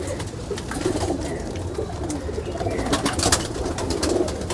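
A large old-bloodline Teddy pigeon and others in the loft coo steadily in low rolling murmurs, close by, with continuous loft noise and no talking.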